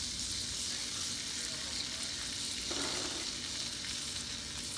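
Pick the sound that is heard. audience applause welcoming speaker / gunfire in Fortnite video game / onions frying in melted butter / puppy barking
onions frying in melted butter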